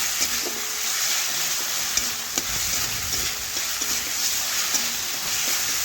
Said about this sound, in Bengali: আলুটাও কিন্তু ভালোভাবে নাড়াচাড়া করে মিশিয়ে নেব